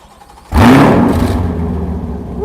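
A Corvette C7 Z06 fitted with an AWE touring exhaust starts up close by: near-silence, then a sudden loud bark as the engine fires, settling into a strong, slowly fading idle rumble.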